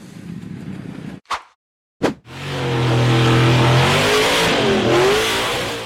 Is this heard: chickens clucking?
no